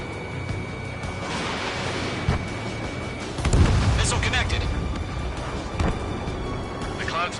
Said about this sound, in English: Radar vehicle's destroyed.